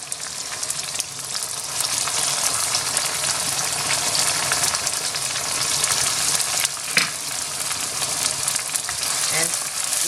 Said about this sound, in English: So it's high heat now, and I'm gonna add the onions now.